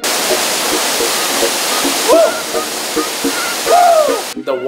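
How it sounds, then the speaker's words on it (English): A waterfall near La Catedral above Medellín rushes in a loud, steady broadband roar throughout, with a person's voice briefly audible over it. "But the falls were beautiful."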